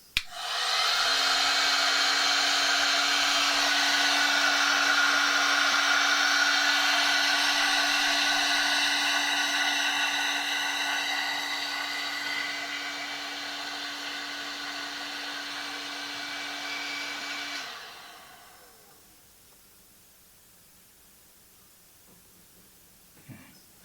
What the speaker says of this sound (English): Using the hot air gun, I can now shrink the heat shrink and